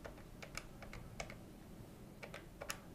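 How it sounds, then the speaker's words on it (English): Number keys are pressed one after another on a Polycom IP335 VoIP desk phone, a dozen or so light, crisp plastic clicks in an irregular dialing rhythm, close and quiet with no talk. "start dialing the number to use the speakerphone or lift the handset and begin to dial"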